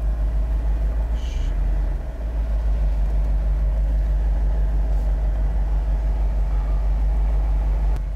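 A Jeep with a 392 Hemi V8 idles in a showroom, a steady low rumble holding evenly throughout with no revving and no voices.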